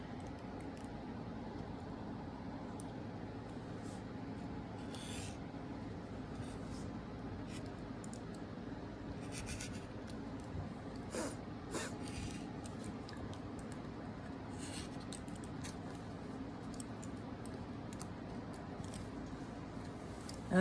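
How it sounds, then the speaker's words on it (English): Scissors snip through quilting fabric while fussy cutting a pattern repeat, a few quiet crisp cuts scattered over faint room background. "now I'm going to cut out my last repeat"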